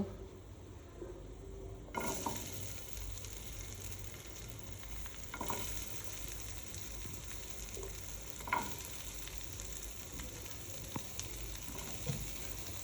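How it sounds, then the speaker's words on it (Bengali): Garlic, capsicum and chopped onion fry in a pan for white sauce pasta, a sizzle that swells loudly after a quiet start, with occasional utensil knocks and scrapes and no voices. "এবার এর মধ্যে একে একে ক্যাপসিকাম আর পেঁয়াজ কুচি দিয়ে দেব।"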